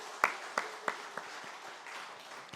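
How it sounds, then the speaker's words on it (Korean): A small church congregation claps briefly: several sharp, spaced hand claps that thin out and fade into a quiet murmur of room noise. "핵심적인 분들 우리 박수 한번 여러분 격려해 주시기 바랍니다"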